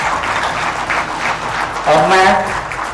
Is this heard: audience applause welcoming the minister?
yes